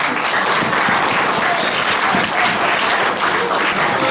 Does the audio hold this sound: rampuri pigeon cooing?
no